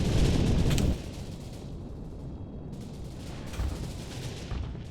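A loud burst of rapid gunfire in the space shooter game HyperVelocity opens the moment, then gives way to a low, continuous rumble with fainter bursts of shots and impacts.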